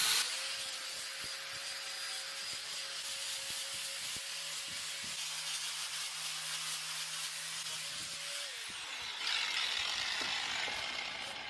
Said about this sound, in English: I'll be using a sander with a sanding disc